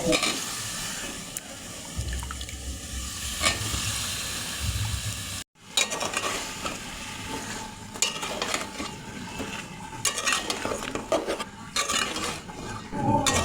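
Papaya stirred into spice masala in a pan for a fish and papaya curry: a spoon scrapes and clinks against the pot over a soft sizzle, with a brief break midway before the clattering stirring resumes.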